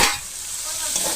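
Meat dropped into a pan of nearly cooked tomato masala, giving a bright, steady sizzle with light stirring scrapes, close up and without talk.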